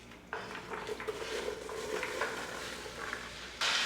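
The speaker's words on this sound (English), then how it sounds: "once the butter is melted, we'll add in the apples" Apples sauté in melted butter in a pan, giving a steady close sizzle with a brief clatter of stirring partway through and a louder burst of frying near the end.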